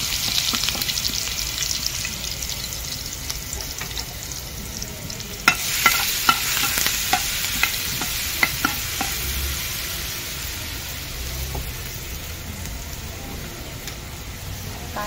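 Ground garlic and green chili fry in hot oil with a loud, steady sizzle, a burst of crackling and spattering pops partway through, then settle back to an even hiss; no talking.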